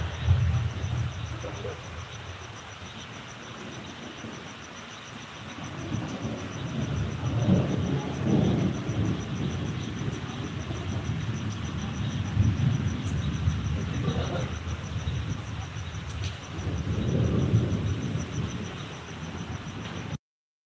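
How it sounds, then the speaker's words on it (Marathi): Heavy monsoon rain pours steadily over a farm, with deep thunder rolling in several long swells beneath the constant wash of falling water. "मस्त पाऊस पडतोय बघा भरपूर पाऊस चालू आहे"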